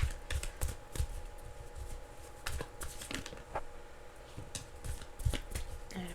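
Playing cards are shuffled repeatedly in short, crisp riffling bursts at close range during a tarot reading, the brisk patter alone with no talk.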